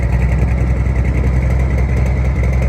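A large modified sled-pulling engine with big injectors and a bigger cam idles loudly and steadily up close, a deep constant rumble with a faint mechanical ticking running through it.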